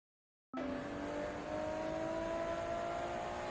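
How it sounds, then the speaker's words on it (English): A 1967 Ferrari 330 P4 engine in Forza Motorsport 2 starts abruptly and holds a loud, steady, high-pitched drone, revving slightly with a brief dip before settling again, and no voices over it. "1967 Ferrari 330 P4."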